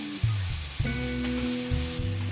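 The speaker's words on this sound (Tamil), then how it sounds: "இந்த கேரட்டை முதல்ல நான் நல்லா வதக்கி விட்டுடுறேன்" Grated carrot sautéing in a pan, a soft steady sizzle with light stirring scrapes, faint and close by, no talk.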